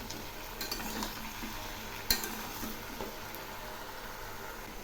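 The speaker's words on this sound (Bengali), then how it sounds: "আবার একটু নেড়ে দিচ্ছি।" Malabar spinach chhechki is stirred as it fries in a pan, a soft, steady sizzle with faint scraping and one sharp utensil knock near the middle.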